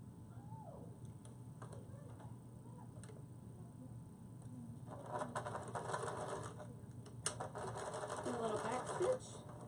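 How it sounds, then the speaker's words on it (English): A sewing machine stitching down the sides of a fabric card holder, a rapid mechanical whirring in bursts after a quiet start, with a person talking over it. "now we're going to go and just sew down our sides right here."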